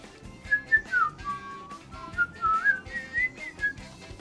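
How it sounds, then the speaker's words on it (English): A cheerful whistled melody from Mario Kart 8 video game music plays over a bouncy backing track, the whistle gliding between notes in short phrases. "I like that they brought back the whistling for the Mario Kart 8 version of this song."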